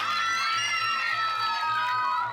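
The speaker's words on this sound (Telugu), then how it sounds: "ఓకే, భవానీ గట్టిగా చప్పట్లు కొట్టండి" A studio audience on a Telugu TV game show cheers loudly for a contestant named Bhavani, a dense, sustained crowd roar with high excited voices rising and falling throughout.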